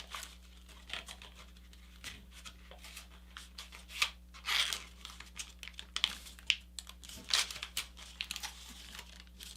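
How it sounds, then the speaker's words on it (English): Paper is folded by hand into a spiked paper airplane, with close, soft crinkles, taps and creases coming in short irregular bursts over a faint steady hum, no one talking. "now I'm going to fold this edge here"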